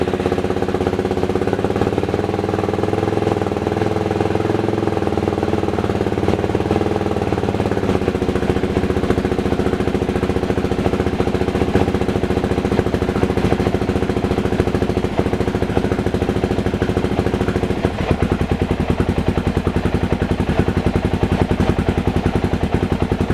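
A Suzuki DRZ400 motorcycle engine fires up with the choke on and keeps running. It makes a loud, steady mechanical clatter and drone close by, with the tone shifting partway through, and no voices.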